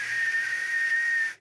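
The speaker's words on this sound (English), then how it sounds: "Sometimes these resonances sound like whistles" An artificially boosted resonance in an audio mix rings as a thin, steady whistle-like tone over a hissy wash, holding for just over a second before cutting off.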